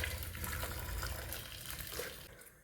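Water is poured into a cooking pot seasoned with smoked paprika, a steady splashing, gurgling stream close by that fills the whole moment and eases slightly toward the end.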